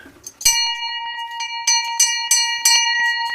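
A handbell rings loud and close in a series of repeated strikes with a sustained, metallic, ringing tone between them, and a brief murmur of voices comes just before.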